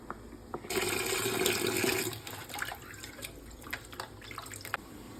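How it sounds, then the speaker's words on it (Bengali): Running tap water gushes over goat meat being washed, a loud steady splash for a second or so, then falls back to softer trickles, drips and splashes of handling, close with no talk. "আমি মাংসটাকে ভালো করে পরিষ্কার করে নিয়েছি, এখন ধুয়ে নেব ভালো করে"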